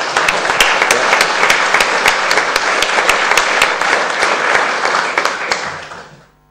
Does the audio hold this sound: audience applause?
yes